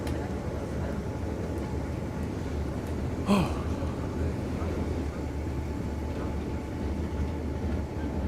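Steady rumbling of a tramway car to Mont Blanc in the French Alps rolling along rails, a constant low drone with a brief louder clank partway through.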